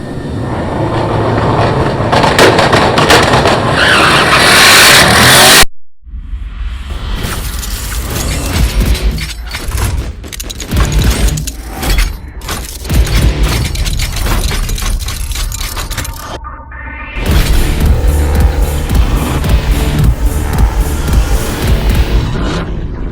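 A Chevrolet C8 Corvette at a TX2K22 drag racing event, built to run nines off the trailer: a loud, continuous roar of engine and crowd noise that drops off sharply around six seconds, then resumes with a fluctuating mechanical rumble and another loud surge near the end.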